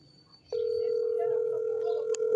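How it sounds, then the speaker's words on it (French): A telephone tone sounds abruptly after a moment of quiet and holds as a steady, clear electronic note for about two seconds, fairly loud and near. "Son téléphone sonne"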